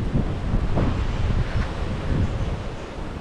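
Wind blows by the sea at a fishing spot, a steady low rushing with microphone buffeting, close and continuous with no voices.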